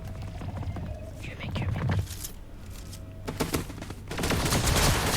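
Gunfire in the Fortnite video game comes in rapid bursts and sharp volleys, loud and close, mixed with game sounds and a player's voice talking over parts of the action.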